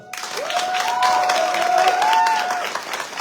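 A crowd at a French political rally claps steadily for a few seconds, a warm, even wash of applause with a whistle or cheer rising through it, fairly close.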